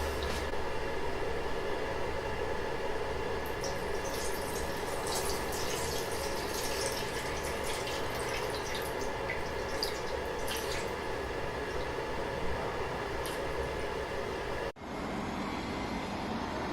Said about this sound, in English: and let's pour some in.